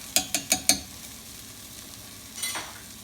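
Vegetables for a red lentil soup cooking in a pot, with four quick sharp stirring scrapes at the start, then a soft steady sizzle and one more brief stir near the end, close up with no talking.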